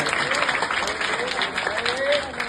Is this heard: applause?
yes